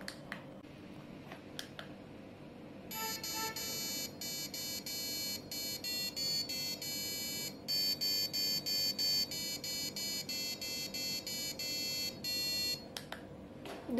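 A piezo buzzer driven by an Arduino plays Jingle Bells as a sequence of shrill, electronic beeping notes in a clear rhythmic melody, close and alone over a faint background hiss.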